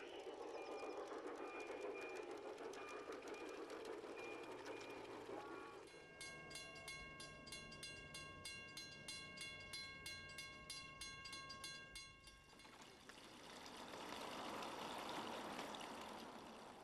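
An LGB model train runs on a garden railroad, rolling past with a rhythmic clicking of wheels over rail joints through the middle stretch, set against steady outdoor water-like background noise before and after.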